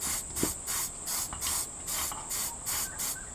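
Brake and metal cleaner sprayed from an aerosol can onto outboard engine parts in repeated short bursts, about eight hissing sprays in an even rhythm, close and clear with no talk.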